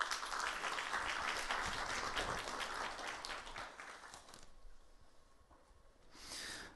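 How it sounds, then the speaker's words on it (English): A conference audience applauds three speakers returning to the stage for a session, a dense, steady wash of clapping that thins out and fades partway through, then rises in a brief late swell. "Give them a round of applause."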